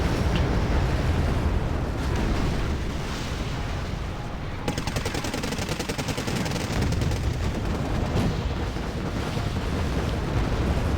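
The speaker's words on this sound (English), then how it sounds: "More rocket artillery is being fired." Rocket artillery barrages fire continuously in the Wargame Airland Battle video game, a dense, loud, roaring wash of launches and explosions with rapid crackling bursts throughout.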